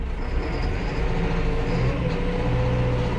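A Massey Ferguson 5711 M Dyna4 tractor engine running steadily at about 1500-1600 rpm, heard from inside the cab as a constant low muffled drone with no talk.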